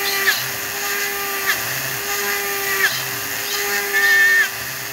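A drill bit grooves the tread of a rear tire, giving a steady high whine with small repeated catches as the bit bites the rubber, close and continuous.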